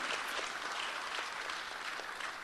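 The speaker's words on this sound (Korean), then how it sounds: "한번 우리 박수로 맞아주시기 바랍니다." An audience at a Korean church policy forum applauds to welcome a speaker, a dense, even wash of clapping that holds steady throughout without voices.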